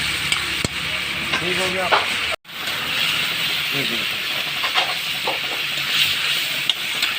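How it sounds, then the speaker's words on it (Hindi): Tomatoes fry in a kadai over a high flame with a steady hiss and sizzle and occasional stirring scrapes, while a voice speaks briefly. The sound cuts out for a moment partway through. "अब ये इसको अच्छे से भुनाई कर रहे हैं तेज़ आंच पे"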